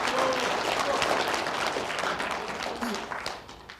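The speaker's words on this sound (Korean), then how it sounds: "박수 한번 하세요" Listeners at a lecture on restoring a memorial at the Seodaemun Prison History Hall break into dense applause that stays strong, then tapers off toward the end of about four seconds.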